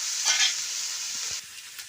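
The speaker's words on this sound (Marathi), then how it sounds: "पुन्हा आपल्याला कांदा तेल आणि मीठ परतून घ्यायचं आहे" Onion sautéing with oil and salt on a griddle over a wood-fired stove, a bright steady sizzle with a few scraping stirs near the start, easing slightly toward the end.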